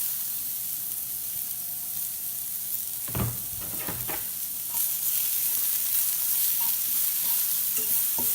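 Mushrooms frying in a pan with onion and garlic, a steady sizzle with a few spoon clatters and a louder surge of hissing as the onion and garlic go in.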